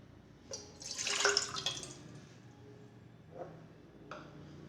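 One cup of water is poured into a pan for sugar syrup, a close, brief splashing pour swelling and tapering over about a second and a half, followed by two fainter splashes.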